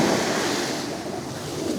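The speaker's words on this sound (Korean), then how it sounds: "파도에 습격을 당했습니다." Strong ocean waves crashing and surging on a Korean beach on an overcast day, a loud continuous rush of surf with wind noise buffeting the microphone.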